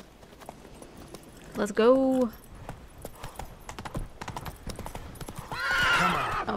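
Roach the horse from The Witcher 3 gives a clear whinny mid-clip over rhythmic galloping hoofbeats, with a second neigh near the end, while a player speaks briefly.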